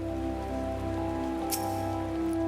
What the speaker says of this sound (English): Looks like it's raining pretty hard.